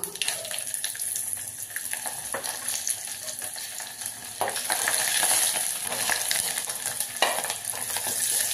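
Oil sizzles steadily in a pan while a utensil stirs a tempering of small onions and two chillies for fenugreek-leaf dal, the frying growing louder partway through, with no voices.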